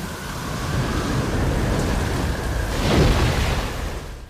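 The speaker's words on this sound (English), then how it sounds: "From when the water comes crashing in until he reaches the surface" Ocean water crashing in during a movie storm scene, a steady loud roar of surf and rushing water with wind, swelling to a heavier surge near the end, no voices.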